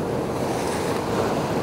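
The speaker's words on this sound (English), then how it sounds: "These waves are nuts." Ocean surf washes in a steady, close roar with wind buffeting the microphone, a continuous rush of breaking waves on a shoreline with no voices.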